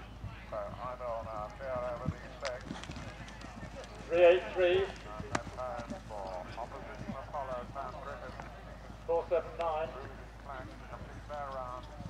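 A show jumping horse under a rider at an outdoor event gives faint, rhythmic hoof clip-clops at a distance beneath a public-address announcer speaking.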